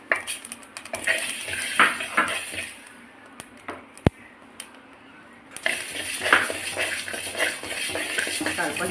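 Mustard seeds go into a pan where fenugreek is dry-roasting for homemade sambar powder, with a steady run of metal clinks and scraping stirs, loudest at the start and again toward the end.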